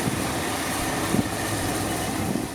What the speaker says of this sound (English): The engine uses a 270-degree crank that produces a deep growl